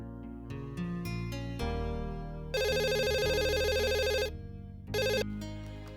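A telephone rings with a repeated electronic ringtone, bursts of bright tones separated by short pauses, with no one talking over it.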